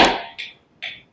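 Flamenco palmas claras for tangos, three crisp, bright hand claps at close range, the first strongest, spaced roughly half a second apart with quick decay.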